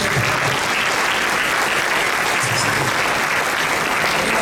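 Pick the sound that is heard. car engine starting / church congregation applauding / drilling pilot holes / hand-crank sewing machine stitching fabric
church congregation applauding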